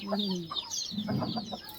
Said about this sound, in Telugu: రెండు కోళ్ళు ఉన్నాయి పెద్దవి